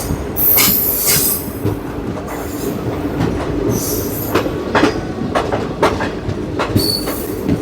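Salasar Express passenger train running on rails after leaving Shahdulpur Junction, heard up close with a steady rumble, rhythmic clickety-clack of wheels over joints, and repeated sharp metallic squeals.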